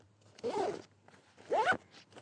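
Two quick zips of the zipper on a hiking backpack's top lid, close and crisp, each a short rising rasp with a brief pause between them.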